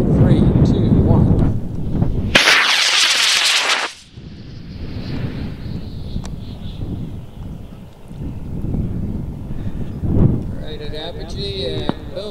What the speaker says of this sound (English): 5-pound rocket flying on an H180 going off of pad 6